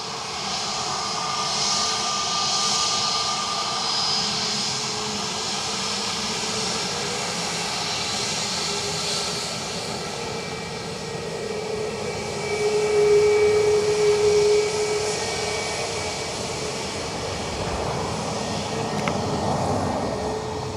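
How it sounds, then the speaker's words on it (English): Delta flight 176 jet landing on runway 28 left at Dublin Airport, a steady distant jet engine whine and roar swelling slightly midway, heard alone without talk. "runway 28 left, clear to land. Land 28 left, Delta 176."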